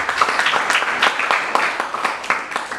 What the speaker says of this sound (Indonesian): Berikan tepuk tangan buat mereka.